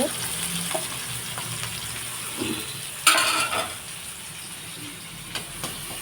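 Crabs fry in a pan with a steady close sizzle, broken by a sharp scrape of stirring midway and a few lighter knocks later, with no one talking.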